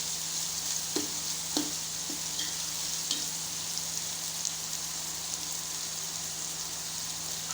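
Onions sizzle in a pan as they brown, giving a soft continuous frying hiss broken by a few sharp clicks from stirring, near and fairly quiet under a faint steady hum.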